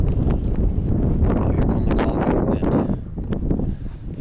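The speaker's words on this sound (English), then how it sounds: "here come that Colorado wind" Colorado wind buffets the microphone with loud, continuous low rumbling and gusty bursts that ease slightly near the end, and no voices are heard.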